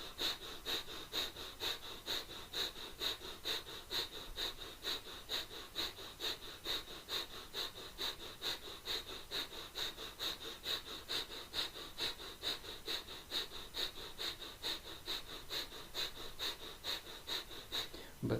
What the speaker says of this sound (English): it's just a shallow breath coming from a pulsing movement in the abdomen